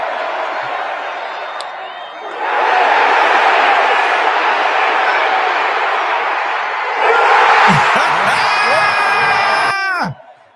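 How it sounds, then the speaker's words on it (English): Baseball stadium crowd roaring as the final out nears for a World Series berth, a huge sustained cheer that swells louder midway with whoops and screams, then cuts off abruptly near the end. "Listen to that crowd."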